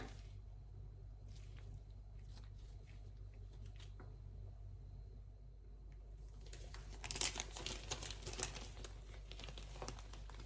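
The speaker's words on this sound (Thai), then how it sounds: "ปั้นก้อนแล้วก็แพ็คใส่ถุง" Plastic bag crinkling as balls of Isan-style fermented beef are packed, faint scattered rustles at first, then a denser burst of close crinkling and rustling over the last few seconds above a low steady hum.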